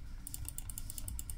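Rapid light keystrokes on a keyboard as a password is typed, a quick even patter of about a dozen clicks, close but soft, with no voices.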